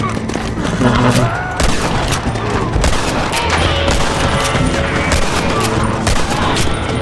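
A Wild West gunfight in Red Dead Redemption on PC erupts in rapid, overlapping gunshots and booming reports, loud and dense for several seconds, with shouted voices mixed in.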